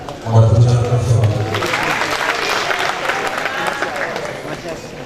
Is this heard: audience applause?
yes